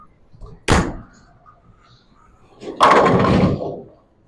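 A bowling ball, a benchmark ball with a 2000-grit finish, thuds down onto a lane and then rolls in a loud, sustained rumble about two seconds later, with a quiet stretch between the drop and the roll.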